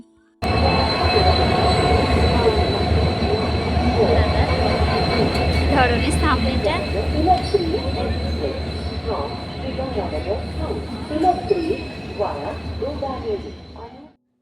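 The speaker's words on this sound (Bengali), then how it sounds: "একটা অন্য ট্রেন আসছিল" A train rumbles past close by, loud and continuous, with rattling wheels and metallic squeals as people talk over it.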